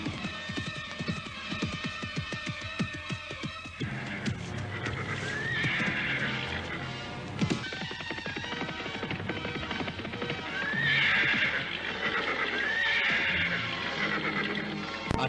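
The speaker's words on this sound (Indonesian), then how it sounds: "Prabu Sana menghentikan kudanya." A horse brought to a halt neighs twice with shrill whinnies, and hooves clip-clop underneath, all set against dramatic background music.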